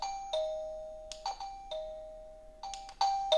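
An XTU J10 video doorbell's indoor chime unit plays a clear electronic ding-dong tone several times in a row, close and alone, with sharp attacks and ringing decays.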